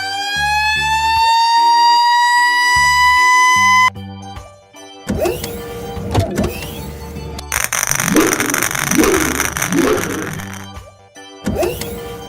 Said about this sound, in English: Red fire truck.